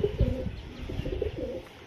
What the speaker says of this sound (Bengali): আমার বাড়ির সব থেকে টপ পায়রা এই পায়রা